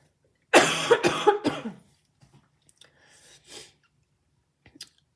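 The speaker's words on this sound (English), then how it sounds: "I'm going to cough again." A few sharp coughs burst out close by in quick succession, followed by quieter throat noises and faint clicks in near silence.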